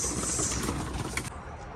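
Racing pigeons in a loft give soft, low cooing close by, a short murmuring burst with faint rustling and no speech.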